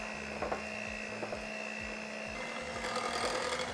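An electric mixer whirs steadily through yellow cake batter, a continuous high motor whine with faint rhythmic thumps of the beaters against the bowl.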